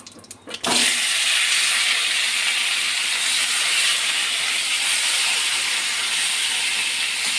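Marinated fish hits hot oil seasoned with bay leaf, whole dried chillies and cumin seeds, a sudden loud splash becoming a strong steady sizzle that carries on unbroken.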